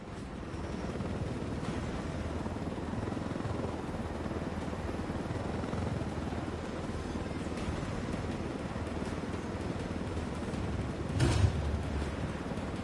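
Helicopter in the tactical shooter Ghost Recon, a steady droning rotor roar throughout, with a brief louder clunk near the end.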